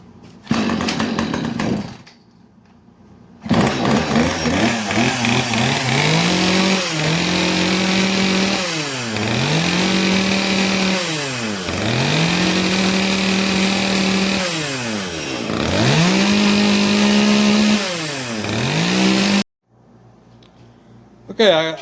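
Husqvarna T435 small chainsaw running close and loud, holding a high idle and repeatedly revving up and dropping back in waves, with a short quieter stretch near the start and a cut-off near the end.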